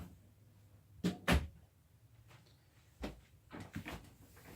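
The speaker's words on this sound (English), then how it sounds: "let me close the door open here." A door is pushed shut nearby with a sharp double knock of wood, followed by a few softer bumps and clicks as it settles into the frame.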